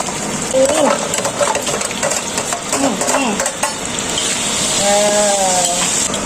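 Small anchovies (teri) and tofu frying in a pan, a steady broadband sizzle with stirring clatter throughout, close by, with voices heard talking over it.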